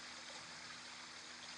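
A gentle little stream pouring from one rocky basin to the next, a soft, even, continuous trickle and rush of water, steady and unchanging throughout with no voices.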